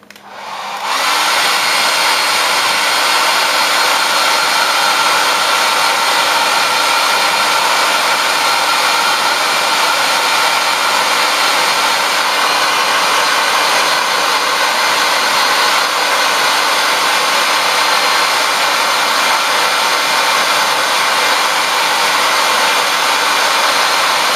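A hair dryer blows steadily at close range to dry paint on a folk art cardinal piece, a loud, even whirring roar that runs unbroken from start to finish with no talking.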